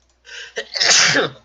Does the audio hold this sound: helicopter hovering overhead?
no